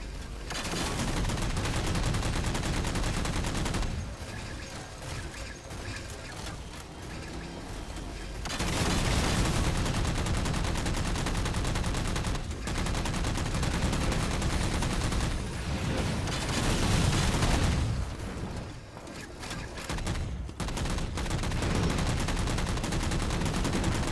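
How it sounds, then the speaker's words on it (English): Heavy, continuous gunfire and explosive blasts from a rocket-armed Warthog in the Halo 4 video game, loud and dense, with brief lulls between long volleys and no talk. "I'm being shot from behind with a rocket hog"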